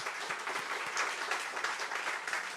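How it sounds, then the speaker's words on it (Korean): Dense, steady applause fills the room as a church congregation gathered for an opening worship service claps together, a continuous even roar without pauses. "모든 영광의 박수를 하나님께 한번 드리십시다"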